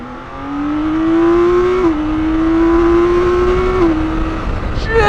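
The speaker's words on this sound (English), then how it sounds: "I'm barely touching the throttle." A 2023 BMW K1600 Bagger motorcycle accelerates hard, its engine note rising steadily and loud up close, with two brief dips at gear changes and continuous wind rush throughout.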